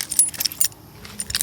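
A bunch of keys for a 1969 Ford F100 truck jangles and clinks close up in bright, irregular bursts, with a short lull midway.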